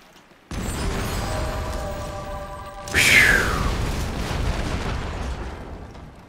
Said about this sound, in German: Eines ihrer Schiffe steht unter Beschuss.